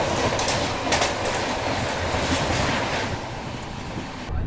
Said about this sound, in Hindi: और ये मेरे ख्याल से जम्मू तवी अजमेर पूजा एक्सप्रेस होनी चाहिए।